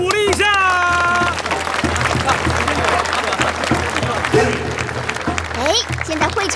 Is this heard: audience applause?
yes